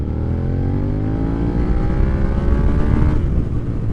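Jeep TJ engine revving at light throttle, a steady loud rising drone with harmonics climbing over about three seconds before easing off, no voices.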